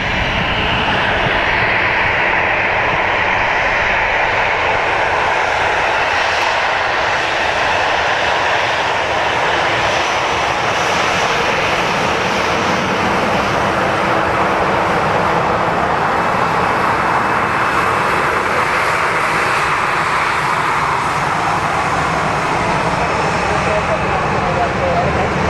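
An airplane takes off at Dublin Airport, its engine roar a loud, steady broadband rumble holding for the whole stretch, with people talking intermittently over it.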